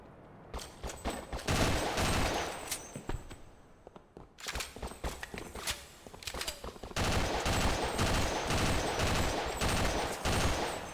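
Rapid bursts of gunfire ring out in a Half-Life co-op game, with dense repeated shots and short pauses between volleys, loud and close throughout.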